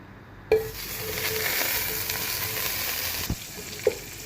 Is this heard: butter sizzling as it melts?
yes